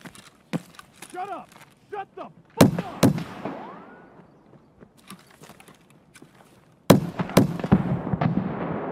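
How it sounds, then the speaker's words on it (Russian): An M32A1 MSGL grenade launcher firing in Escape from Tarkov: a few sharp, loud bangs spaced seconds apart, with a heavier blast near the end. Talk and scattered smaller clicks and shots come between them. "Он с гранатомета стреляет."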